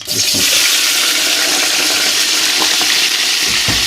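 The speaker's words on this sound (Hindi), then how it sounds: "ऑयल गर्म हो चुका है जी, प्याज डालेंगे इसमें।" Chopped onions go into hot oil in a home kitchen, setting off a loud, dense, continuous sizzle and crackle that holds steady throughout with no talking.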